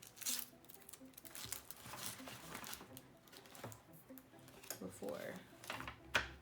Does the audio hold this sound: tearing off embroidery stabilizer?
yes